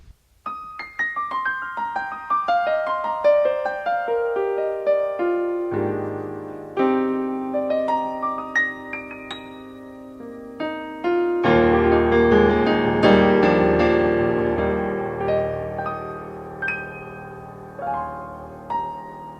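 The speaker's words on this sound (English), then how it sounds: "So what you're hearing is a beautiful German grand piano." A German grand piano sound from a Korg Kronos acoustic grand piano engine plays a flowing melody over sustained chords, notes ringing and decaying, building to a fuller, louder passage before easing off.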